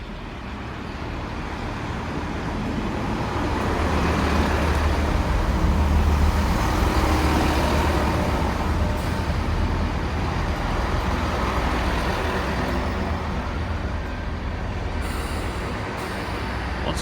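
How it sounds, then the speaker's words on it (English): A Great Western train pulls into Cheltenham Spa station with a steady rumble of wheels and engine, building and then holding, loud and close for the whole stretch. "And we got a train on this side coming in soon, going to Worcester Foregate Street."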